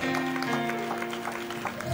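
A church congregation claps along in steady rhythm, fairly close and full, with sustained organ or keyboard tones running underneath.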